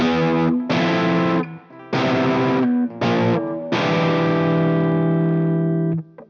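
Distorted electric guitar strums a few heavy chords, each held then cut, the last one ringing out and fading; no voices.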